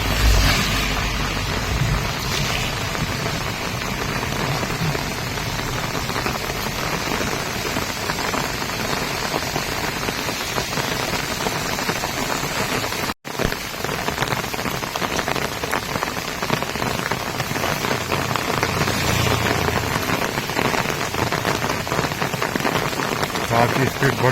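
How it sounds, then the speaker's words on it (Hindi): Heavy wind-driven rain pours down at night in the Koti area, a steady dense roar of water hitting surfaces that runs the whole time without a break except for one instant of dropout. "देर रात हवाओं के साथ तेज बारिश हो गई"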